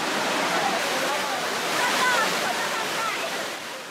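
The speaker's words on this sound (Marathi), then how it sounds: "गर्द वनराईतनं फेसाळणारा मांगेलीचा धबधबा सध्या पर्यटकांचं आकर्षण आहे." Mangeli waterfall plunging through dense forest in Sindhudurg, a continuous loud broadband roar of falling water that holds steady throughout.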